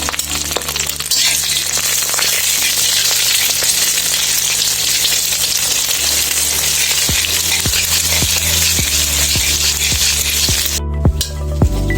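An egg fries in hot oil in a pan for noodles, sizzling loudly and continuously, with clinks and scraping stirs toward the end.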